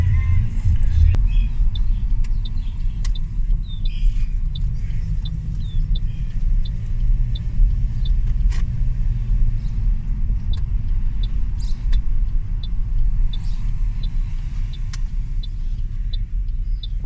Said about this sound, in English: Driving around in the neighborhood.